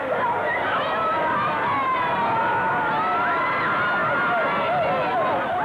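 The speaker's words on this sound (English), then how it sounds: "screaming fans and Bobby Soxers at Kingsford Smith Airport want to see him now" A large crowd of screaming fans and bobby-soxers waiting at Kingsford Smith Airport for Sinatra's arrival, heard on an archival newsreel as a dense, continuous roar of shrieks and chatter that fills the whole stretch.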